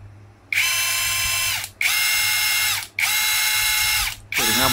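A Total 20V cordless brushless impact wrench runs on its low mode in three long, loud bursts of rapid ratcheting hammering with short pauses between, then starts a fourth.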